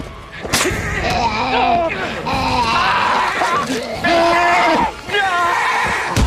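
Horses whinny and neigh repeatedly in a tense scene from The Walking Dead, with loud overlapping calls, shouting voices and a busy, dramatic soundtrack filling the background.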